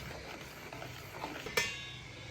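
A cornstarch mixture simmers and gets stirred in a pot, soft bubbling and scraping under a faint steady hiss, ending with a sharp clink of utensil against the pot.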